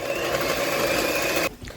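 An electric hand mixer whirs steadily as it beats eggs, sugar, vanilla and milk, a constant close motor drone that cuts off abruptly near the end, leaving quiet kitchen background.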